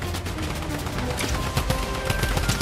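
Rapid gunfire from a Fortnite match, a steady dense rattle of shots over busy game noise and music, with no talking.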